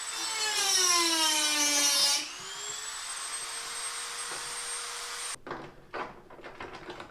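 An electric drill whines steadily while enlarging a hole in a custom car door panel for a Diesel Beetle, its pitch dropping as the bit bites, then it stops and is followed by a few handling knocks and clatter.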